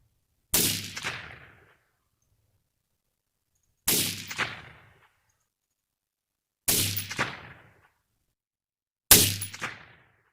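An AR-15 rifle firing reloaded ammunition at a target: four loud, sharp single shots spaced a few seconds apart, each with a short ringing decay and silence between.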